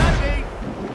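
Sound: ship cannons firing in naval battle, Assassin's Creed Rogue video game

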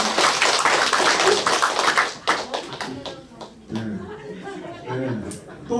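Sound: audience clapping

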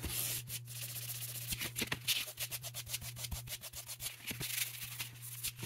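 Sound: rubbing boiled linseed oil into rifle handguard with steel wool

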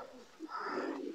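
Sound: pigeons cooing in a loft

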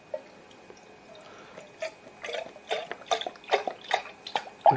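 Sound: prune juice poured into a tankard

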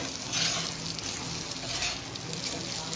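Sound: kane fish frying in pan, being flipped

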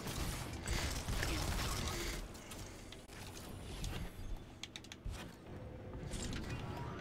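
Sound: door unlocking mechanism in video game Destiny 2

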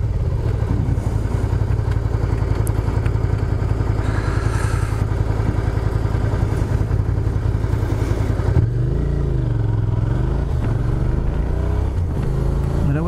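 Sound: Suzuki SV650S motorcycle riding off

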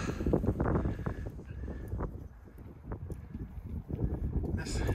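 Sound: wind

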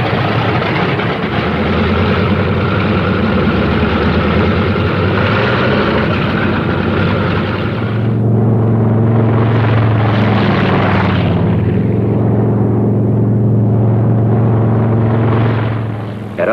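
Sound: P-47 Thunderbolt fighter plane engines warming up on airfield

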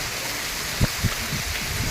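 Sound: heavy rain falling

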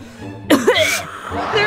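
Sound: cough of a sick man

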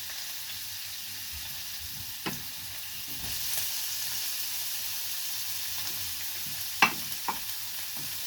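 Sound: sautéing onion and tomato in oil

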